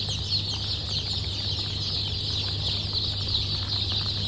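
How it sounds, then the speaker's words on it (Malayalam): A crowd of young Gramasree chicks peeps and clucks nonstop at close range, a thick high-pitched chatter over a steady low hum. "ഗ്രാമശ്രീ ഇനം കോഴിക്കുഞ്ഞുങ്ങളാണ്."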